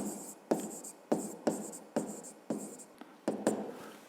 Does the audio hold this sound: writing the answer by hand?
yes